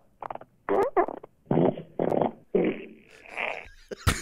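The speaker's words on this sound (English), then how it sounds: "There's like seven different fart videos that I pushed together." Several separate recorded farts strung together one after another, each a short burst with its own pitch and texture: some wet and sputtering, others buzzy or drawn out, with brief gaps between them and a sharp loud blast at the end.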